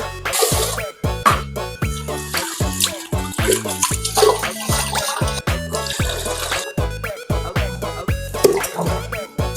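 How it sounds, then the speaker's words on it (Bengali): Rice is washed by hand in water, with close, irregular sloshing, splashes and drips repeating throughout. "চালটা ভালো করে ধুতে হবে"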